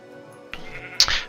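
Sheep bleat from a Minecraft sheep farm, two short bleats close together near the end after a quiet stretch of game ambience, with no talk.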